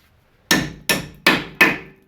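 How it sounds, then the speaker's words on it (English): Four loud, evenly spaced hammer blows ring out on a rusted wheel bearing part of a Ford Escape, each a sharp metallic strike with a short decaying ring, close and alone. "Pound that on because it's all rusted to hell."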